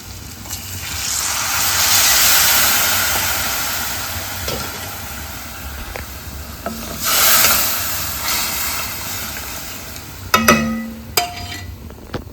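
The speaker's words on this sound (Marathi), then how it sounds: "असा उकळ आलेला आहे" Water with turmeric and spice masala coming to a boil in a cooking pot for a Maharashtrian dish, a steady close hiss and bubbling that swells and fades, with a few clinks of utensils near the end.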